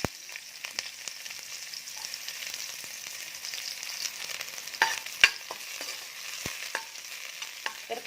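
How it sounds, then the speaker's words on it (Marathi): Onion goes into hot oil for Malvani chicken, producing a soft, steady sizzle with scattered clicks and clinks of stirring close by and no talk. "तेल गरम झाले की त्यामध्ये टाकायचा आहे कांदा."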